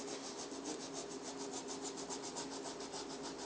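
A stiff brush scrubs a shoe under firm downward pressure, making a steady, close, rhythmic rasping with fast repeated strokes that continue without a break throughout.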